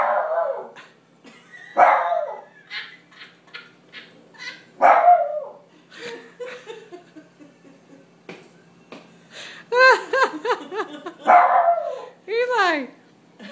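A dog barks and yips in sharp bursts, with lower rumbling growls in between, close up, amid scattered clicks and handling noise.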